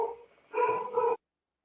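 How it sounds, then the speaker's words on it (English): A dog gives a short whimpering yip followed by a louder, drawn-out whine, close and alone before abrupt silence. "I hear some dogs."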